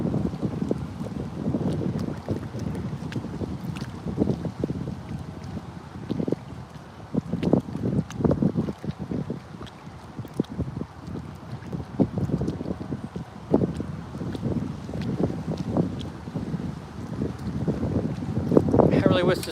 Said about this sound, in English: I really wish this darn wind would die down so I could cast out farther.